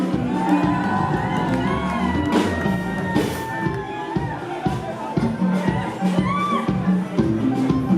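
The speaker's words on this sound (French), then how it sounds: "Les femmes insoumises, faites du bruit." A concert crowd at a cabaret cheers and shouts over steady live music with a thumping beat, voices rising in scattered whoops throughout.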